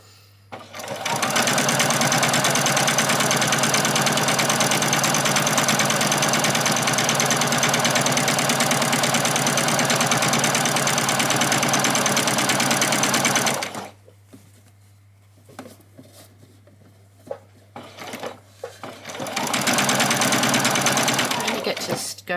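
A sewing machine stitches a seam on a doll's dress, running loud and steady for about thirteen seconds, then stopping for a quieter stretch with faint handling sounds and possible low speech before starting up again near the end.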